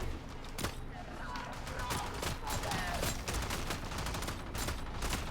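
Heavy gunners firing in the video game Warframe, a dense fusillade of rapid gunshots and bursts with mechanical clanks, loud and continuous throughout.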